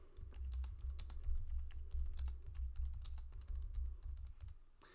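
Content typed on a computer keyboard: a continuous, fairly quiet run of rapid key clicks with brief pauses, close and alone.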